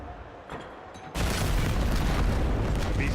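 Heavy boom and rumble of grenade explosions in a Call of Duty match, a sudden loud blast after a quieter start that then holds as dense, sustained roaring noise.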